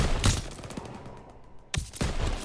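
Bursts of rapid gunfire in Call of Duty WWII, loud at the start and again near the end, with a brief lull between, like an automatic weapon or a half-track turret firing nearby.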